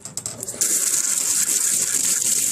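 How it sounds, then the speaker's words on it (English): Tap water gushes steadily over large shrimp being rinsed of salt in a kitchen sink, starting after a few light splashes and clinks, close and continuous. "Then rinse the salt off of the shrimps."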